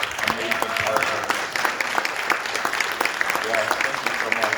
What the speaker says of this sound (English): let's give a round of applause to these amazing partners